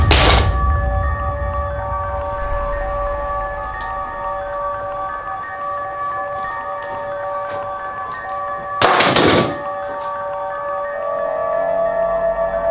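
Heavy banging against a door downstairs: two loud, sharp impacts, one at the start and another near the end, separated by a long stretch of steady tonal background hum.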